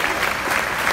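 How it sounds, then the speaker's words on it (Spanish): An audience at a youth awards ceremony gives Abel a steady, dense round of applause, loud and continuous with no talk over it. "Que se sienta ese aplauso para Abel."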